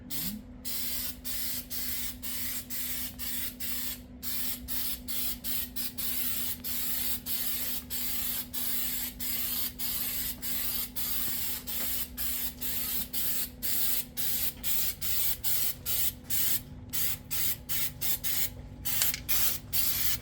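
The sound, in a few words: spray can paint being sprayed on a 1951 Chevy Styleline trunk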